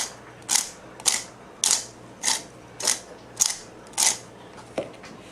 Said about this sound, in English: I'm going to take my my ground black pepper and I'm going to try to grind at least